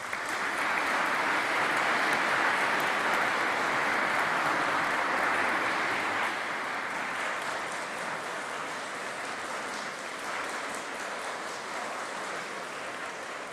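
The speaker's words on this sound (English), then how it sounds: "give them a huge round of applause" A large audience at a university graduation ceremony gives a sustained round of applause, a thick, even roar of clapping that eases slightly in the second half and continues without speech.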